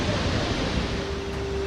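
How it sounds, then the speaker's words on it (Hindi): The Melamchi, Indrawati and Helambu rivers, swollen after days of rain and a glacier-burst flood in Nepal, rush in a dense, continuous roar of water heard close up. "यह तबाही हुई है मेलमची, इंद्रावती और हेलंबू नदी की लहरों से।"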